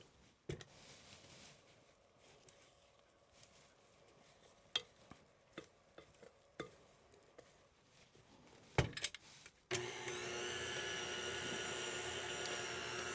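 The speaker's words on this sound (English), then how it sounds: "So that gets beat in, and I'm going to scrape down the sides because you should always scrape down the sides of your mixer." An electric stand mixer beats corn syrup Yorkshire parkin batter. A few scraping clicks and taps come first, then the motor starts and holds a loud, steady whirring drone to the end.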